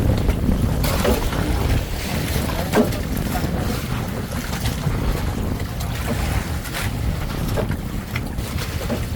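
Strong wind buffeting the microphone with a low rumble, steady throughout, with water and boat motion sounds underneath.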